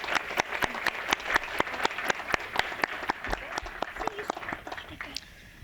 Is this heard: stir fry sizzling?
no